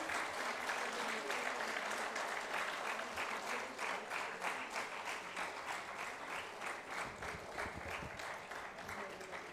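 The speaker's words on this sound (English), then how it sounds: "Let's hear a big round of applause for all of them." Audience at an awards ceremony applauding the recipients, a dense, sustained round of clapping at steady loudness throughout, with faint voices mixed in.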